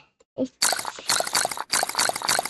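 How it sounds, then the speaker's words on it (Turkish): Cartoonish pouring and trickling from the Toca Kitchen 2 video game as hot sauce goes onto watermelon, a short blip and then repeated bright gurgling bursts in quick succession, loud and close. "Bunu Karpuza acı mı dökeceksin?"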